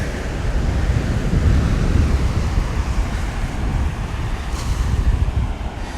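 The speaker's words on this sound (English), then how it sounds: "I just had to take you guys out onto the beach here" Wind buffets the microphone on a Rockaways beach in New York, with the steady roar of ocean surf beneath, a continuous low rumble and no talking.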